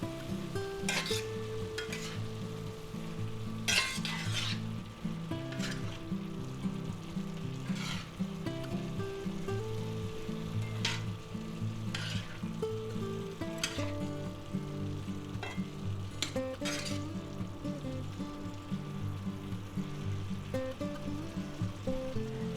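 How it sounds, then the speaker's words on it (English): Mushrooms stir-frying in a pan with steak and vegetables, a steady close sizzle broken by repeated scraping and clattering stirs, with no talk. "now what we're going to do is we're going to add our 8 ounces of mushrooms. Yeah, we love our mushrooms. And we'll give them a stir in."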